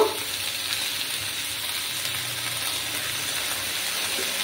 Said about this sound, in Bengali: মশলাগুলো ভালোভাবে কষিয়ে নেব।